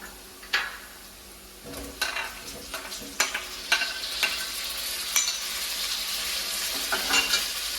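Tomatoes are added to frying ginger, garlic and green chili in a pan for a peechinga (ridge gourd) dish, producing a gentle sizzle with intermittent clinks and scrapes of a stirring spoon against the pan.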